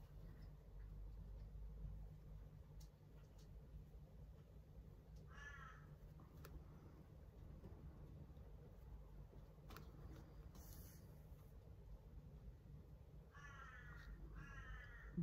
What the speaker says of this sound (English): crows have got a lot to say at the moment